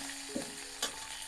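A tempering of mustard seeds, urad dal, chana dal, curry leaves and green chillies fries in well-heated oil in a kadai. A brief, steady hiss of sizzling carries a couple of quick pops and spits, with no voices.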